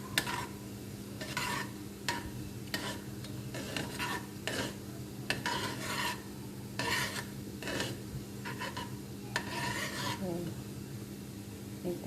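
Samosa filling frying in oil in a pan, stirred and scraped in repeated rasping strokes over a steady low sizzle.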